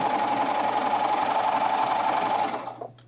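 Serger stitching a tunic seam, a loud, close, rapid mechanical whirring hum running steadily for about two and a half seconds before stopping abruptly.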